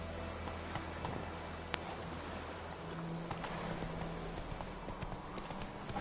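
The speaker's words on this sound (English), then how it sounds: "Whoa there, Roach" Horse hooves clip-clopping in The Witcher 3 video game, a steady walking rhythm of hoofbeats heard close and clear over a soft ambient background.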